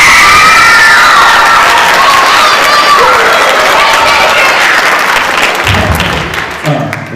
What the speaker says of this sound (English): One more round of applause for Eleanor and Mimi.